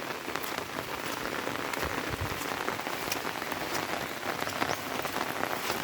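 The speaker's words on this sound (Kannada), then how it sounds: "ನೋಡಿ, ಆಗ ಬೆಳಿಗ್ಗೆಯಿಂದಲೇ ಮಳೆ." Steady rain patters down continuously on a plantation, a dense hiss of drops with scattered louder taps on nearby surfaces, with no voices.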